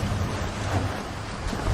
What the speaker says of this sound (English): Storm's getting closer.